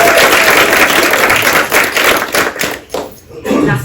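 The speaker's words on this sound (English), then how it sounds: "Please give a massive round of applause for Mo" An audience gives a guest a big round of applause at a panel event, loud dense clapping that holds steady and then thins into scattered claps and a few thuds before swelling briefly again.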